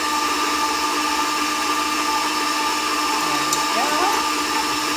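Electric mixer whirring steadily as it creams a batter for soda bread, a loud continuous motor drone with a brief change in pitch near the end.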